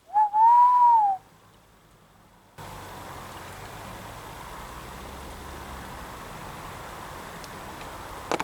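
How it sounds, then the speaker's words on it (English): An owl gives a single drawn-out hoot at night near a camp with a tent and hammock in the rain. The call is clear and fairly close, followed by quiet and then a steady wash of background noise. "I hadn't heard an owl until then."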